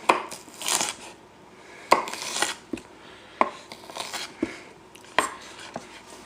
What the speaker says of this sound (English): Then I just do one last chop on them